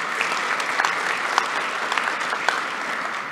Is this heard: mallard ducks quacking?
no